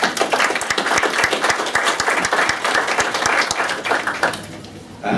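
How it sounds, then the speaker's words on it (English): An audience at a tech council evening event applauds a speaker, a full burst of many hands clapping fairly close that thins and fades toward the end. "Let's give him a round of applause"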